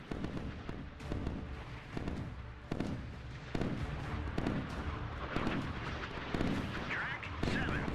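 Naval counterfire thunders in the Sea Power video game: repeated booming artillery-like blasts in an irregular rhythm, loud and close, dense with rumbling explosions, with some talk mixed in.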